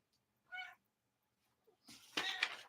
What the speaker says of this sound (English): Got a kitty here who's interested in everything.